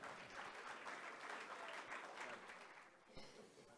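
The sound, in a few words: audience applause welcoming Rodolfo López Negrete Coppel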